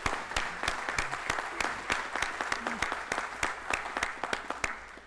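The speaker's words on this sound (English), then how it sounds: "Let's give ourselves a round of applause." Applause from the audience at a school district board of trustees meeting marking a 30th anniversary, with sparse, distinct claps spread across about five seconds at a moderate level.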